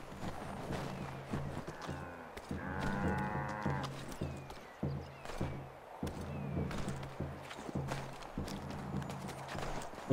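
Cows moo in the Assassin's Creed III Remastered video game, several drawn-out lowing calls spread over ten seconds amid a busy outdoor game ambience with hoof clip-clops and footsteps, no speech.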